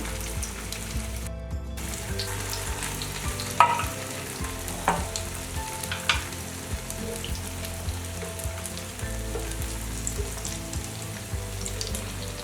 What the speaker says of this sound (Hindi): मैं दो तरीके से कबाब फ्राई करने लगी हूँ, एक अंडे में डिप करके और एक बगैर अंडे